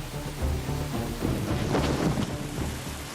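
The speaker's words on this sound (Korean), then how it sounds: "그런데 빗방울이 떨어집니다" Raindrops fall in a steady patter while low rumbles of thunder roll underneath, swelling midway, with no voices.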